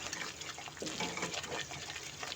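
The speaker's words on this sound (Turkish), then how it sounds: "Et suyunu koyuyorum şimdi." Meat broth poured into a soup pot in a home kitchen, a steady close splashing liquid pour running continuously without any talk.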